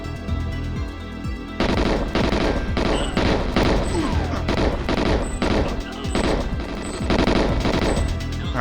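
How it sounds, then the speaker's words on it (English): GoldenEye 007 submachine gun fire bursts in rapid, loud volleys, sharp repeated shots chattering over a dense game soundtrack and explosions, continuous through most of the span. "he's got like a submachine gun"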